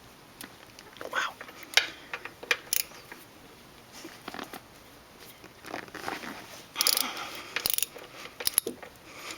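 A ratchet socket wrench clicks in short bursts on a Honda Shadow final drive cover, the quick pawl chatter coming in several separate spurts with brief pauses between them, close and fairly loud.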